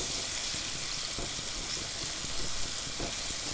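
Pork sizzling and frying steadily in a very hot pan as it sears, a dense continuous crackle and hiss, loud and close, with no talking.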